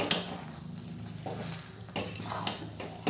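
Sugarcane jaggery being stirred into a jujube pickle in a pan over a low flame, with soft scraping and a few sharp utensil clinks against the pan.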